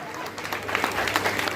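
An audience at a Patidar community association's annual celebration in Pune gives a burst of enthusiastic applause that starts softly and builds into steady, dense clapping, with a voice heard over it.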